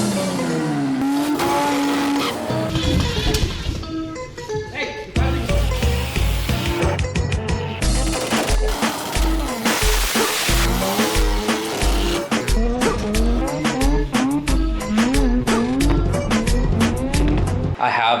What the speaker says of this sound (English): I have the 20 BFD on the dyno, and we're putting 85 on it